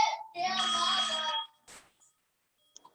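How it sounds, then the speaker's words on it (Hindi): A telephone in a university lecture setting rings with a loud, bright electronic trill in two bursts, followed by brief quiet and small faint sounds. "यूनिवर्सिटी ऑफिस से फोन आ रहा है"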